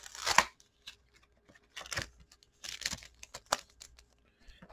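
A Yu-Gi-Oh! booster pack from Legendary Duelists: Magical Hero is ripped open in short, crisp crinkling tears and foil rustles up close, separated by quiet pauses.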